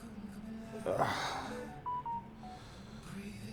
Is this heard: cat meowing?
no